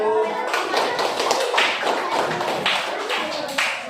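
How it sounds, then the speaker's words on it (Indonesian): A classroom group claps for group 1 as it comes forward, a dense patter of hand claps mixed with taps and light thuds, sustained for a few seconds with a voice talking over it. "tepuk tangan untuk kelompok 1"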